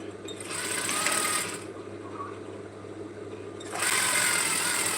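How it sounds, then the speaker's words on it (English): A sewing machine stitches a 1/4 inch seam on a simple A-line dress in two short bursts of fast whirring with a quieter idle pause between them, close and clear. "So I'm sewing with 1/4 inch again, giving us a total of 1/2 inches."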